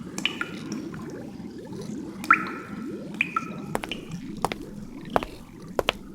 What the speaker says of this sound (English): running water gurgled in gutters and rain pipes